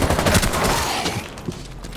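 Rapid assault rifle fire in the Rainbow Six Siege shooter game, a dense burst of close, loud shots crackling over about two seconds before tapering into a quieter tail.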